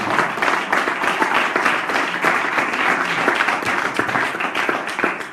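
Dense, steady applause from a large church congregation, many hands clapping together at close range for several seconds without pause.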